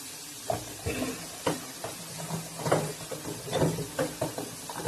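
Onion frying in a pan with turmeric and salt in a home kitchen, giving a soft sizzle broken by scattered stirring clatters and scrapes, fairly faint and without talk.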